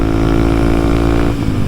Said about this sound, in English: If it's, if the motor's revving out, upshift